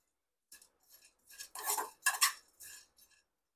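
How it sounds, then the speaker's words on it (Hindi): Magaz melon seeds dry-roast in a pan, heard as a few short, light clinks and rattling scrapes of a spoon on metal in quick bursts against near silence, with no voices. "जब मगज डालेंगे हम अच्छे से रोस्ट करेंगे"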